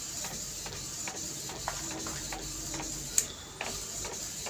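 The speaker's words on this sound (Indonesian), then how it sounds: "Sambil menunggu printer mencetak gambar" An Epson L3110 inkjet printer prints a photo using Bulk Ink 003, giving a steady mechanical hum with regular soft ticks of the moving print head and a sharp click near the end.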